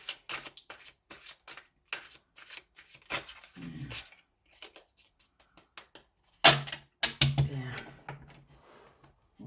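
A deck of tarot cards is shuffled by hand in quick riffling bursts and soft flicks, close and crisp, with short pauses between runs and a brief spoken comment partway through.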